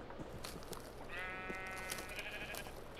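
A sheep bleats in the Minecraft video game, a single drawn-out, wavering bleat that stands out clearly against low background noise.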